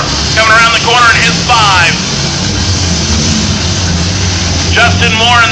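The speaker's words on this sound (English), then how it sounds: "Justin Moore in that 5 car making some noise out there," Car engines roaring and revving at a night demolition derby at a state fair, a loud continuous low rumble with swelling revs, while an announcer talks over a crackly PA.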